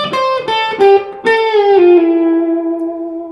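An effects-laden electric guitar plays a lick slowly: several distinct picked notes step along, then a bend slides up into a long ringing note that sustains and fades, close and unaccompanied.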